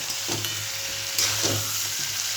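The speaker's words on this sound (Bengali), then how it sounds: "এই কাঁকড়াগুলো দিয়ে এবার আমি মশলাটাকে ভালো করে কষবো" Crabs sizzle in oily spice paste in a pan, a steady moderate fry broken by several scraping stir strokes spaced about a second apart.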